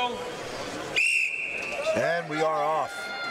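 A sharp referee-style whistle blast sounds once at a strongman sandbag race, a loud sustained tone over crowd noise, followed by a commentator's voice.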